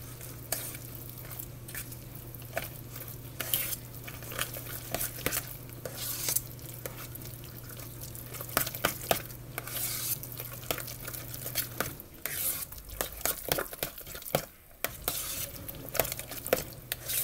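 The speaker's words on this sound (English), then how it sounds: "And then you just mix it all together." Greek yogurt tzatziki sauce is stirred in a bowl, soft scraping and light clinks of a utensil against the dish, close and quiet in irregular bursts.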